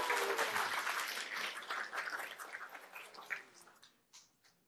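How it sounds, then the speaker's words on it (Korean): A Korean lecture audience at a talk about reading breaks into a short burst of applause, fairly distant and fading out over a few seconds until only scattered claps remain. "박수 한번 쳐주셔야 되는 거 아니에요?"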